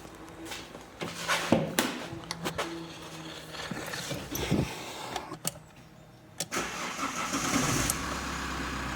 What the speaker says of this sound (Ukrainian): Запускаємо автомобіль.